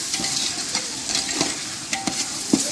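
Tomatoes fry in a pan for a home-cooked Telugu dish, a close steady sizzle broken by several soft scraping stirs of a spoon, with no voices.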